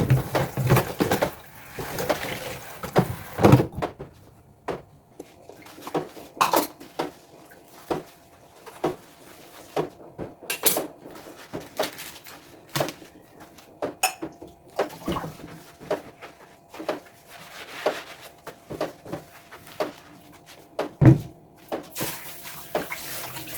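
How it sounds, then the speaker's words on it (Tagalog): Spoons are handled and washed during a general cleaning of a home kitchen. Intermittent metallic clinks and clatter mix with running water and the knock of dishes, close by and irregular, throughout. "Linisin tayo guys sa mga kutsara."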